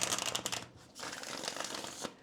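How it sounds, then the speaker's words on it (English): A deck of tarot cards is shuffled close by in short, quiet riffling bursts with a brief pause partway through. No voices are heard. "Having a hard time shuffling here."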